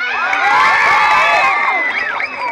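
An audience at a gay pageant in Naga, Philippines, roars with sustained cheering, shrill whoops and screaming, a thick, loud wall of crowd noise that barely dips across the moment.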